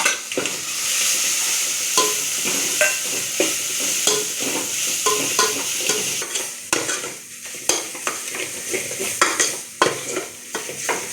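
A paste of coconut, ginger, garlic and coriander sautés in hot oil in a pan, with continuous close sizzling broken by repeated scraping and stirring strokes, no voices.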